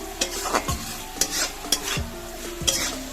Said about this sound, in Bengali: সমস্ত সস দিয়ে এটাকে ভালো করে নাড়াচাড়া করে নিচ্ছি